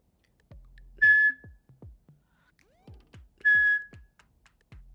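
Two short, sharp toots on a dog training whistle for the sit command, each a single clear high blast, separated by a pause, with soft footsteps or movement between them.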